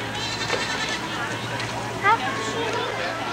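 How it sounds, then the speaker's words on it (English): A mother goat at a game farm lets out a single bleat partway through, over steady background murmur and a person talking nearby. "That's a mommy goat."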